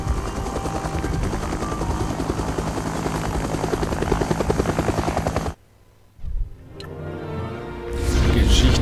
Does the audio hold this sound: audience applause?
no